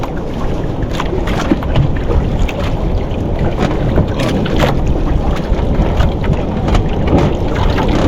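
Strong wind roars steadily over open water, buffeting the microphone with a constant heavy rush and occasional louder gusts.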